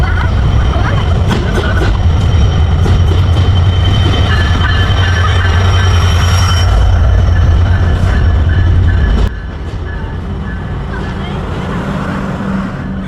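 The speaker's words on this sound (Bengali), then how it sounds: "আমাদের সাগরদারি এক্সপ্রেস ট্রেনটি কিন্তু চলে এসেছে যেটা খুলনা থেকে রাজশাহী যাতায়াত করে" The Sagardari Express, a passenger train running between Khulna and Rajshahi, arrives at a station platform with a loud, continuous rumble and clatter of wheels that eases to a lower roar near the end.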